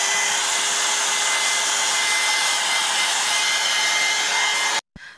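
A handheld dryer blowing on a mixed media art journal page: a loud, steady whooshing roar with a constant whine that runs almost the whole time, then cuts off abruptly near the end.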